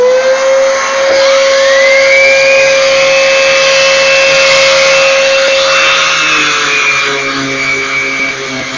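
Power sanding along the edge of a wooden dresser, a loud, close, continuous whine with a steady tone that rises in pitch after a second and holds, easing slightly near the end, with no talking.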